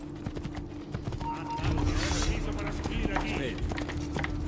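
A horse gallops in the video game Assassin's Creed II, with rapid hoofbeats over game noise and a steady low hum.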